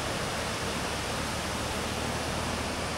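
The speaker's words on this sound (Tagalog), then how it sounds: "Ang daloy ng tubig" A mountain stream in Andap, New Bataan, runs steadily under a high bridge, making an even, constant rushing hiss with no pauses or voices.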